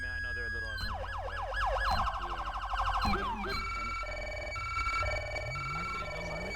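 Electronic police sirens from a GTA 5 police car wail and yelp in rapid sweeping cycles, switching patterns partway through, over a low engine rumble, with a synthetic game-like quality.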